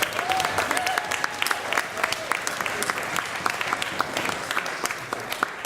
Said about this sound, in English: Round of applause for Nik's decision to do that.